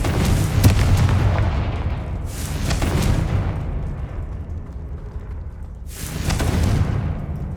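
The Confringo blasting spell in Hogwarts Legacy sets off three heavy booming explosions, each a loud rumbling burst that decays slowly, spaced a few seconds apart.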